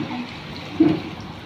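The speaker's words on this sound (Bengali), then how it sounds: "গরম জল ছিল গরম জলটাই দিয়ে" Hot water goes into a pot of vegetarian ghugni, a soft splash and slosh under a steady low kitchen hum, brief and close.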